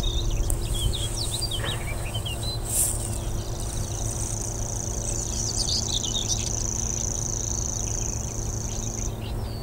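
Birds call and chirp at an RSPB nature reserve: bright, repeated tweets and trills scattered over a steady insect-like drone and low background hum, with no voices.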